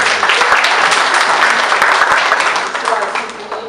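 A church congregation applauds loudly and continuously, a dense wash of clapping from a crowd that fades slightly toward the end.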